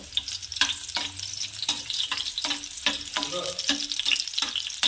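Ginger pieces and green chillies fry in hot oil for a street-style gobi Manchurian, a lively sizzle broken by repeated rhythmic scrapes and stirs of a spatula in the pan, close and fairly loud.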